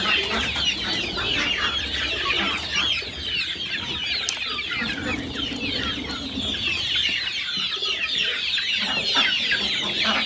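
Chickens squabble at close range, a dense stream of agitated clucks and squawks running continuously without pause, with scuffling underneath.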